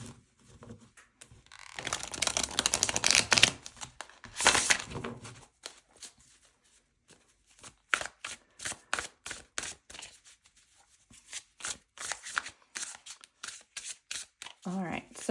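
Close-up shuffling of a tarot deck, a dense riffling burst followed by a long run of quick, irregular flicks and taps.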